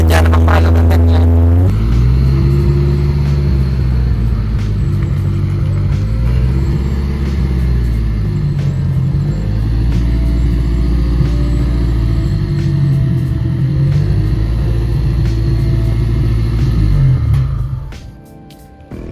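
Engine of a newly built owner-type jeep with a Toyota 4K engine on a test drive, a loud, steady close-up rumble that rises and falls with gear changes and revs, then cuts off near the end.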